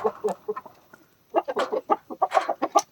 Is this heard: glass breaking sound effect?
no